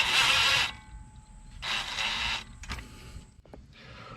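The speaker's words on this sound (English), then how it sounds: "what I want to do is snug this in with the impact" An impact wrench snugging a 22 mm ball joint nut during a front axle replacement on a 2005-2012 Nissan Pathfinder 4.0L 4WD, with loud bursts of whirring hammering separated by pauses and a few clanks.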